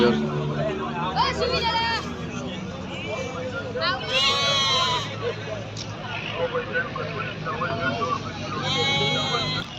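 Goats bleat repeatedly amid the crowd babble of a busy livestock market in Gondal, Chach, with nearby voices talking over the wavering calls and traffic faintly behind.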